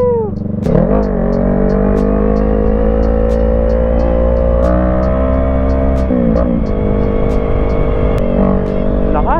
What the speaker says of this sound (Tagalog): Lakas ng motor. Sarap pa ng pipe, ganda ng tunog.